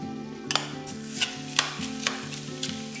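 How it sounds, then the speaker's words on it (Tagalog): Thinly sliced chicken breasts sear in Saladmaster cookware with no oil, hissing under a repeating low hum while several sharp clacks and crackles break through at irregular intervals, with no one talking. "Now, once the cookware is ready, let's put 2 chicken breasts thinly sliced."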